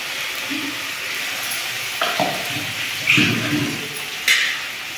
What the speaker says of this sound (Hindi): तो हल्का सा पानी डालकर इसमें मिक्स कर देंगे मटर पानी